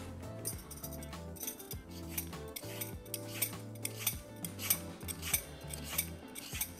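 A carrot tip being cut off in a kitchen, with a series of crisp snips and clicks of a blade over faint clinking of utensils, close and fairly quiet.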